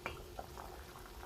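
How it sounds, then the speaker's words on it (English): Water bubbling at a steady boil in a pot for couscous, a faint continuous simmer with small irregular pops and gurgles, heard alone at low level. "The water is nice and boiling."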